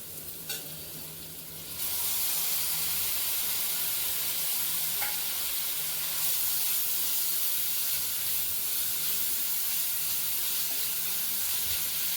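Tomatoes drop into a pan with ginger garlic paste and then fry in a loud continuous hissing sizzle at moderate heat, with a faint stir partway through and no voices.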